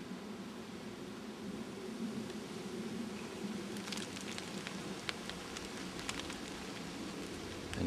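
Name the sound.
freezing rain falling outside a cabin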